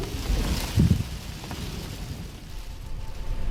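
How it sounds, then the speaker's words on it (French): Strong, gusting storm wind roars steadily with low rumbling buffets, loudest near the start and continuing throughout without any voices. "Le vent est assez violent"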